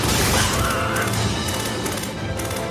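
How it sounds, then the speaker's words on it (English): Dense, loud crunching smash from a Xenosaga cutscene where a huge Gnosis creature slams down and flattens a man, a wet meaty splat blended with roaring noise that stays heavy throughout. "It even makes a splat scream sound effect."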